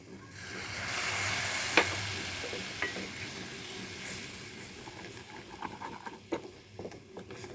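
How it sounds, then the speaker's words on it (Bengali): A spoon stirs a sizzling Bengali fish curry, machher jhal, in a pan after milk is added. Soft scraping and wet patter sit over a steady frying hiss, with a few sharper taps against the pan. "দুধ দিয়ে ভালো করে চালাতে হবে, নাহলে ছানা হয়ে যাবে"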